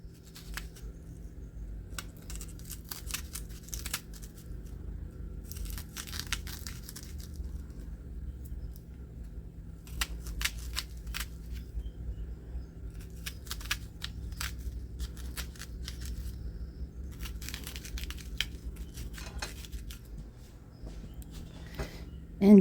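Knife slitting and thinly slicing a chunk of onion for meatballs; crisp, rapid cutting taps come in clustered bursts against a board, close and fairly quiet, with a person talking in between.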